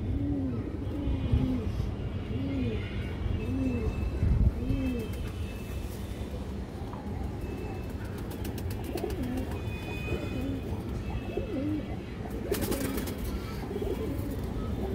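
Pigeons cooing repeatedly in soft, rounded rhythmic phrases over a constant low background hum, with occasional faint chirps and a brief rattling burst near the end.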